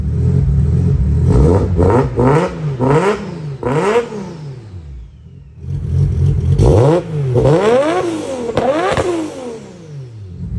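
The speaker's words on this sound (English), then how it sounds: "I thought I'd quickly chuck the car, like do a quick little sound clip of it." Nissan R33 drift car with an RB25 engine and 6Boost turbo manifold revving repeatedly nearby, sharp rising and falling blips in quick bursts, a pause, then more aggressive revs alone.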